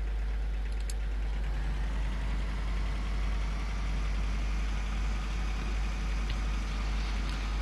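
A tractor engine in Farming Simulator 15 drones steadily at idle-like revs, a constant low rumble filling the whole stretch with no talk over it.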